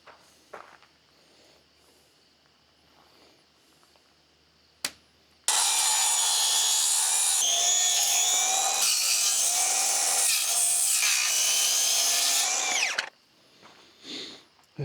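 Power saw trimming wood on a trailer: a few faint knocks and a sharp tap, then a loud, close, steady cutting whine for about seven seconds that cuts off abruptly, followed by quieter handling noises.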